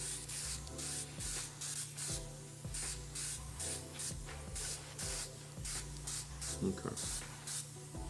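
A Mobius airbrush sprays a coat of 65 Hellblau paint in a close, steady hiss that pulses in short regular bursts. Faint clicks sit under it, and a brief word is spoken.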